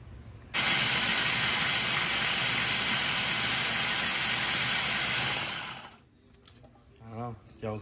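Food hits hot oil in a pan during Lao home cooking, bursting into a loud, steady sizzle that fades after several seconds, followed by quieter clatter and a brief voice.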